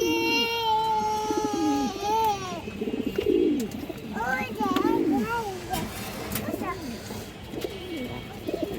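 A male and female pigeon pair coo repeatedly in low, warbling phrases while someone talks over them and children's voices play in the background.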